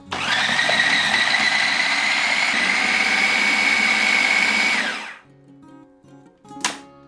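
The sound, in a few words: blender mixing butter, flour and sugar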